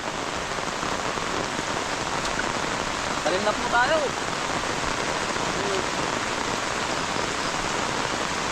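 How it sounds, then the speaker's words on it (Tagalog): Steady heavy rain pours down throughout on a cucumber planting plot, a dense hiss, with a brief spoken phrase partway through. "Lumakas po ang ulan, lumurok."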